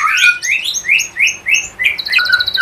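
A thrush nightingale sings close and loud, a quick run of bright, rising whistled phrases repeated in a steady rhythm, ending in a rapid chattering trill.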